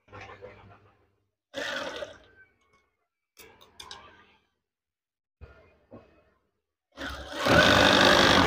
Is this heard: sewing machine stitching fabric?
yes